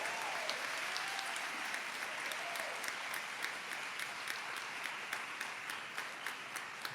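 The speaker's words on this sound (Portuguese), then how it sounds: "Pode aplaudir, é consagração." A church congregation claps steadily throughout, a dense, even patter of many hands at a consistent level, with no voices standing out.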